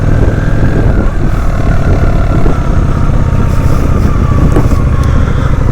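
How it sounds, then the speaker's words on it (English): A motorcycle engine runs steadily and loud up close, its low rumble constant and unbroken, with wind and road noise mixed in and no talk. "it feels so good to get on the bike"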